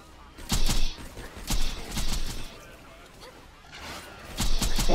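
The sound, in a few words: gunfire in Borderlands 2 video game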